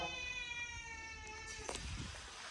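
A cat meows once, a drawn-out cry rising then fading, heard close over a steady tonal hum in the background.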